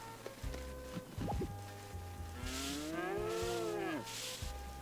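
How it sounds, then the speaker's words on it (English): Cows mooing in the farming video game Harvest Moon: Magical Melody, a long, drawn-out bellowing moo rising and falling over looping game music with small game sound effects. "I hope you like cow noises because you're going to hear them quite a bit."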